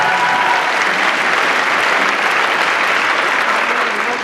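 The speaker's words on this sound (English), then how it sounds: "Let's give her a great big round of applause," A crowd at a cosplay contest claps steadily in a sustained burst of applause, dense and even throughout with no pauses.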